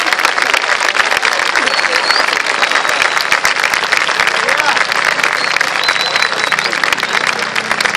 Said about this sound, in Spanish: con este gran aplauso